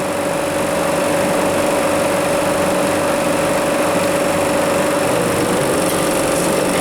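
A loud, steady mechanical drone from a weak air compressor runs continuously up close, a motor-driven hum with a constant pitch and rattling undertone, no speech.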